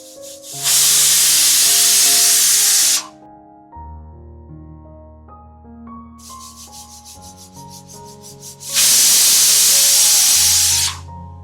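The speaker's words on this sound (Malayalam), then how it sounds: "അപ്പം നമ്മുടെ കുക്കറിന് 2 വിസിൽ വന്നിട്ടുണ്ട്." A pressure cooker cooking sardines lets out two loud hissing whistle blasts of steam, separated by a quieter stretch of kitchen clatter and tonal ringing.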